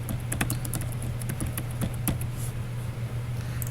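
Fingers tap on a computer keyboard in quick, uneven bursts of clicks, close by over a steady low hum.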